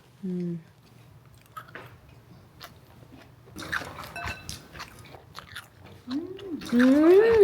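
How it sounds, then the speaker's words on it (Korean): Crunchy pickled soybean sprouts eaten with rice, a few soft crisp bites and chewing sounds close up, with brief voiced sounds around them. "아삭거리는 소리가."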